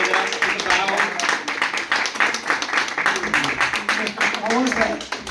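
An audience claps for a panel taking a bow at an event. The clapping is dense and sustained for several seconds at a steady, fairly loud level, with voices audible over it.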